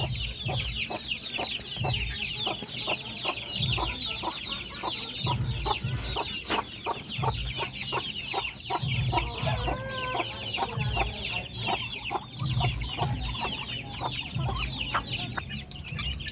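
Chicks cluck and peep continuously while eating wet feed, a busy flock of overlapping calls with pecking taps close by.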